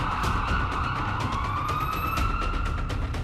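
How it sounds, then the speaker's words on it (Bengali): An ambulance siren wailing loudly and steadily, a continuous rising and falling tone heard alone with no voices. "তখনই একটি অ্যাম্বুলেন্স এসে গেল।"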